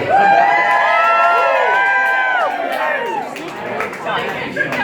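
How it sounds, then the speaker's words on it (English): Wedding guests at a reception cheer, whoop and holler loudly for the best man as he steps up for his speech, a dense crowd roar with rising shouts that thins toward the end. "Give a round of applause"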